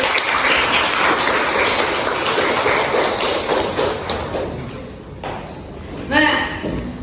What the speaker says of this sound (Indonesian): kalau semangat tepuk tangan dulu